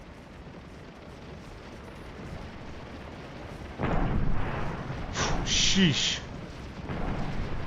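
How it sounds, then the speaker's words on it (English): Cannon fire in the Civil War battle game Scourge of War: Gettysburg: a deep booming roar swells midway and rumbles on with crackling bursts, under a voice speaking briefly. "Yankee artillery's killing us."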